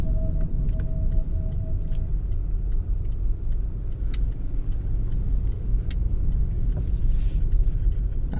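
Skoda Rapid with a 999cc one-litre petrol engine driving, a steady low road-and-engine rumble running throughout with faint ticks and no talk.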